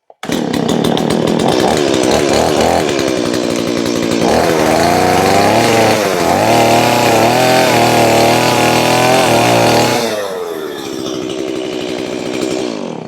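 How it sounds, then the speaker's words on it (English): Loud small homeowner-grade gas chainsaw revving hard as it bites through wood, a sustained buzzing roar that drops to a rough idle near the end. "It's the smallest homeowner grade chainsaw. Let's quickly do a cut"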